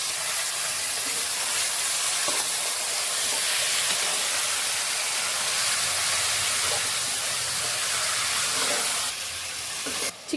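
Marinated chicken coated in ginger-garlic paste sizzling in a cooker gives a loud, steady hiss that runs unbroken for about ten seconds, then dips slightly at the very end.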